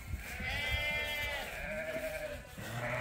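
Several ewes bleat close by during a morning pile-up on a sheep farm, with overlapping wavering calls one after another and a low scuffling rumble beneath.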